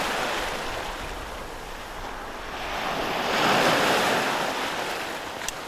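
Waves from a passing ferry wash through a sheltered harbour roadstead, a steady close surge of surf mixed with wind buffeting the microphone that swells for a moment and then eases.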